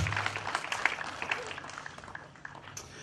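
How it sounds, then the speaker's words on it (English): Applause from a crowd at an outdoor pro-police rally, steady clapping at moderate volume mixed with crowd noise. "please put your hands together"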